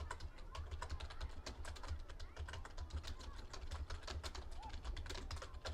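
Rapid, steady clicking of fingers typing on a computer keyboard, close and continuous for several seconds with a faint low hum underneath, no talking.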